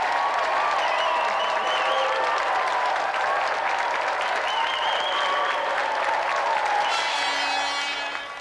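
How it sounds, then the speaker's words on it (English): Studio audience on a 1993 video game show applauding steadily for the contestants, a dense loud wash of clapping that holds for the whole stretch and tails off slightly at the end. "So let's give another round of applause for Thomas and Christopher Celestine and Vic"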